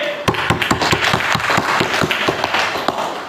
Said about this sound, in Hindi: मैं आपका स्वागत करता हूँ, जोरदार तालियां होनी चाहिए।